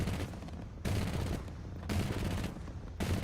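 Bursts of automatic gunfire from the War Thunder video game come in three sustained volleys with short gaps between them, loud and close, with no talk over them.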